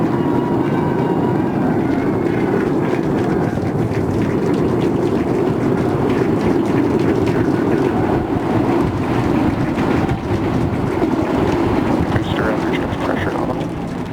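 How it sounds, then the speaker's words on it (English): A SpaceX Starship rocket climbs after liftoff on its eighth test flight, its 33 Raptor engines producing a continuous, heavy, distant roar and rumble that stays steady throughout, with faint commentary in the background. "We are seeing 33 out of 33 Raptor engines ignited."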